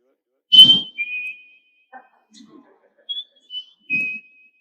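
A person whistles a few high, clear notes imitating a chickadee's pair-bonding call, with soft breaths and quiet gaps between the whistles.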